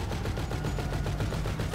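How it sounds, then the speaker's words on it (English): Gunshots ring out in GTA 5 Online, a rapid, steady string of cracking shots like automatic fire, repeated evenly and fairly loud with no talking over them. "there's someone shooting"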